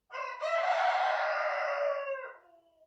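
A rooster crows once, loud and close, in a single drawn-out call of about two seconds that fades at the end, with no other sounds around it.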